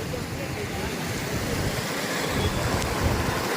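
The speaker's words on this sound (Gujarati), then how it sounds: "પેલું પૂર આવ્યું જોરદાર." Floodwater from the overflowing Karkari river rushes past fields in a loud, unbroken roar, steady and broadband throughout with wind buffeting the microphone.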